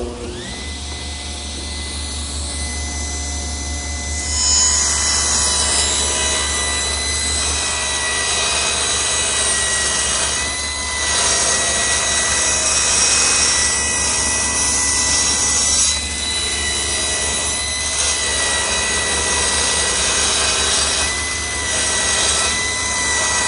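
A table saw cuts a 10-degree bevel along a wooden butcher block piece, a loud steady whine and roar of the blade running and cutting through the wood for a long stretch, with no talking.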